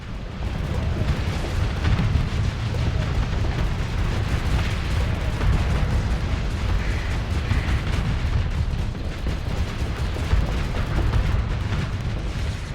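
Missiles launching and exploding in a space battle in the Starsector Star Wars mod video game, a dense, continuous rumble of blasts and booms that stays steady and loud from start to finish.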